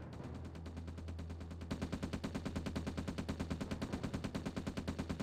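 Units fire on each other in Command & Conquer: Red Alert. Dense, rapid machine-gun bursts rattle in a steady rhythm over a constant low hum, growing louder and sharper after the first couple of seconds.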